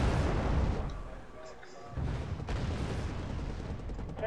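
Heavy booming explosions from an incoming artillery strike in a tank battle video game, a loud rumbling impact followed by a lull and then another sustained roar of blasts.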